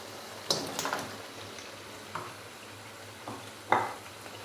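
Chicken feet go into a pan of fried spice masala and sizzle faintly, with a few sharp stirring and scraping clatters spaced over a quiet cooking background.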